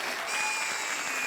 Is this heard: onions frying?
no